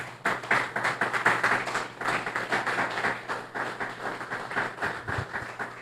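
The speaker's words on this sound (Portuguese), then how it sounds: "Aplauda o Senhor Jesus." A church congregation clapping for Jesus during a sermon: quick, rhythmic clapping from many hands, fairly close and continuous for several seconds.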